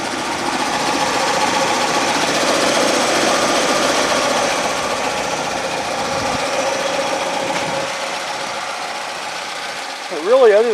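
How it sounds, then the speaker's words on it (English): A 1989 Ford Escort engine running with a small rattle, giving a steady close mechanical clatter and hum that drops away near the end, followed by a brief voice. "I don't know what's making that little rattle"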